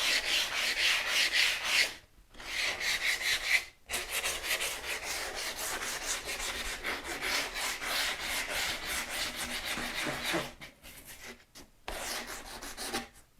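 A hand pad scrubs along the rough edges of cast-in-place concrete in quick repeated back-and-forth strokes, a close, gritty rasping broken by a few short pauses.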